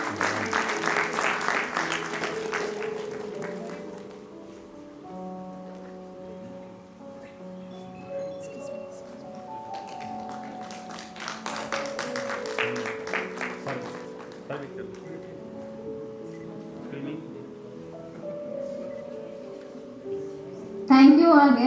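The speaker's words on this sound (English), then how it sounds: "I request the audience to please put their hands together for applause" An audience at a school event gives applause for guests, with clapping at the start and again midway, while sustained musical tones and other sounds carry on beneath.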